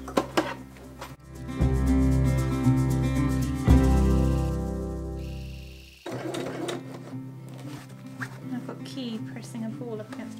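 Sewing machine stitching brown thread through fabric for a dog bed, a loud steady whirring run of motor and needle that stops abruptly, followed by softer handling noises and a voice talking in the background.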